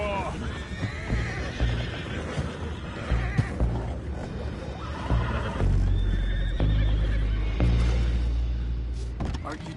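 Horses neighing and whinnying with hooves clopping below, in the open-world western video game Red Dead Redemption 2, mixed with thuds, low rumbles and scattered voices of characters.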